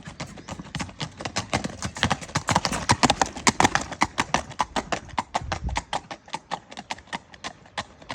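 A four-year-old Friesian sport horse gelding, 16.1 hands, clip-clops with quick, steady hoofbeats close by that grow louder toward the middle and then ease to a lighter, sparser rhythm.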